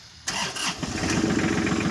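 A Japanese tractor engine cranks and catches, then settles into a rough, rumbling idle with rapid regular pulses, close by and moderately loud.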